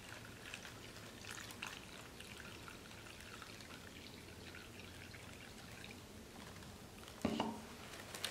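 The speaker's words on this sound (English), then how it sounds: "Next, we're gonna fill the bag halfway with water." Water poured into a plastic sandwich bag holding cornstarch: a faint, continuous trickling and splashing, quiet and close, with a small clatter near the end and no talking.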